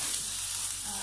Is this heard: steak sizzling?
yes